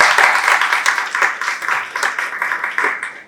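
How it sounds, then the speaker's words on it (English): An audience at a career panel on HR with industry experts gives a round of applause for the panelists, brisk close clapping that pulses in uneven waves and tapers off at the end. "can we have a big round of applause for them?"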